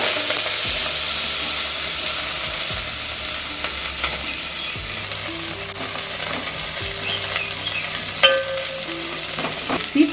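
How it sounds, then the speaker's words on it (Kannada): Fenugreek leaves fry in hot oil with a loud, steady sizzle and hiss, broken by repeated stirring scrapes and a few clinks from a pan, close up and with no talking. "ಎಣ್ಣೆ ಕಾದಿದೆ ಮೆಂತ್ಯ ಸೊಪ್ಪು ಹಾಕೊಳ್ಳೋಣ ಫಸ್ಟ್ ಮೆಂತ್ಯ ಸೊಪ್ಪು ಹಾಕೋಬೇಕು"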